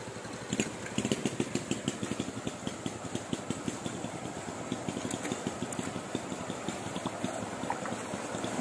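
A car pushes through deep, knee-high floodwater on a flooded street, its engine chugging in a steady rhythmic pulse under a constant watery churn.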